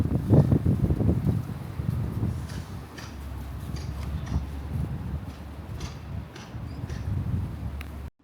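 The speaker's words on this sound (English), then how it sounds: "It's pretty windy up here." Steady low wind rumble buffets the microphone outdoors in a dahlia garden, with faint rustling and gusts rising and falling throughout.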